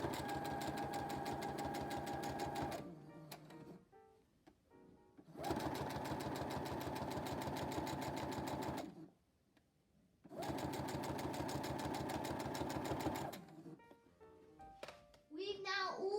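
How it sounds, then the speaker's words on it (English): A sewing machine stitches fabric pockets onto bunting string for a Christmas advent bunting, running in two long steady bursts with short pauses between, close and loud, ending with brief handling noises. "We've now all finished sewing the pockets onto the string"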